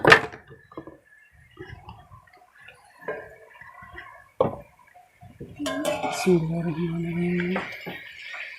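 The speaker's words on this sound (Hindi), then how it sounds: "इस चम्मच से निकालती हूँ, इससे नहीं निकल रहा।" A spoon scooping ghee from a pot, with scattered scrapes and clinks of metal on metal followed by a sustained rubbing scrape near the end.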